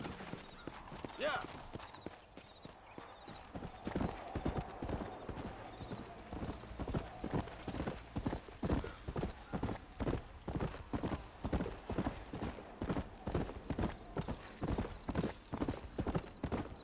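Steady, rhythmic hoofbeats of a horse clip-clopping in a video game, close and fairly loud, with a brief voice near the start.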